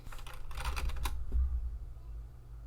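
Computer keyboard typing at a terminal, with a brief run of close, soft key clicks over a low hum before things go quiet.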